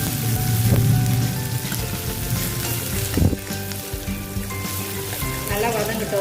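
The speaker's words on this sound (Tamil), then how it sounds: "நல்லா வதக்கி விட்டுக்கலாம்" Onion and tomato sizzle and fry steadily in a pan with curry leaves and dried red chillies for Tamil mor kulambu, a continuous close crackling hiss with a brief stirring clatter partway through.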